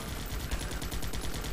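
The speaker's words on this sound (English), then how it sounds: "I can see my my grunt managing to shoot now and then" Soldiers firing in the game Guns Up!, a steady rattle of small-arms gunfire with repeated quick shots throughout, dense and continuous at moderate level.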